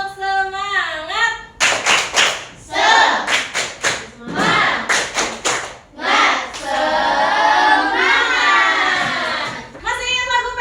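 A primary school class claps the rhythmic tepuk semangat spirit clap in unison, loud sharp claps in patterned bursts, with children's voices chanting between and over the clapping groups.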